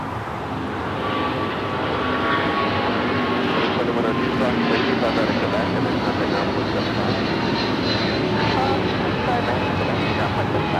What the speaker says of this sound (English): This is United Airlines 2096 taking off to Newark on the 777-200.